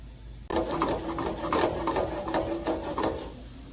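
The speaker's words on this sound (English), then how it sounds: "I'm just going to let this onion saute for a couple of minutes" Chopped onion sautéing in a pan, a steady close crackle and sizzle with stirring scrapes that begins abruptly after a brief quieter lead-in, no voices.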